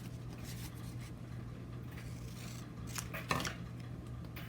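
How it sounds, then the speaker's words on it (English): Scissors snip through two layers of paper in a faint, quiet cutting sound over a low steady hum, with a brief sharper crunch near the end and no talking. "I take my scissors, I cut right through both the papers."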